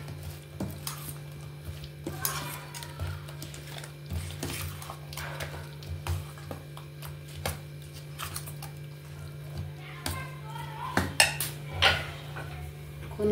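A spoon stirs fruit custard with banana, grapes and apple in a bowl, giving soft, steady scraping and light clinks against the sides, close and moderately quiet over a low background hum.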